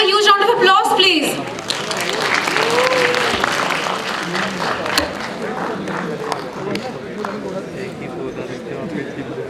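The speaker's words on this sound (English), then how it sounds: "Can we have a huge round of applause, please?" Loud audience applause fills a CEO summit hall, a dense wash of clapping that swells at first and then holds steady, with a few sharper claps and some crowd noise on top.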